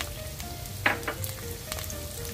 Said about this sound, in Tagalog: Ating ilagay ang bawang.